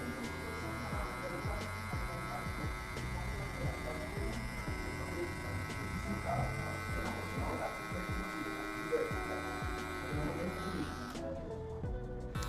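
Electric hair clipper buzzing steadily up close while shaping the transition of a mid fade, a continuous hum with faint handling noises, cutting off abruptly at the end.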